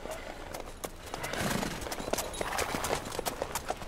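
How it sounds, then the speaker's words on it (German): Horse hooves clip-clopping in The Witcher 3: Blood and Wine, a quick, fairly close rhythmic run of hoof strikes over a soft background, with no talking. "Pferde."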